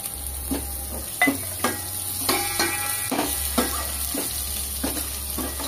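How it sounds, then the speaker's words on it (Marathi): Curry leaves crackle in hot oil in a pan, a steady sizzle punctuated by sharp pops and occasional scrapes of a spoon, over a low electric hum. "आता याच्यानंतर मी कढीपत्ता घालते। कढीपत्ता सुद्धा आता फुललेला आहे"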